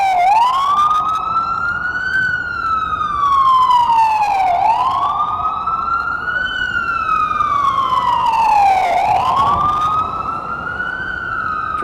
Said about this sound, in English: Okay, here's an ambulance.